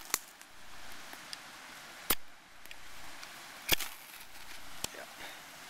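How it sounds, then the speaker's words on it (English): Fire steel struck against a knife at camp, producing four crisp, isolated scraping strikes spaced a second or more apart over faint background hiss. "That's good fire steel."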